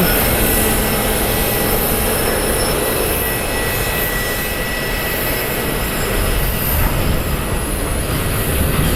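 A Cessna Citation business jet rolls out on a runway at Columbus airport, giving a continuous rushing roar with thin high-pitched whistling tones, steady and somewhat distant, with no speech.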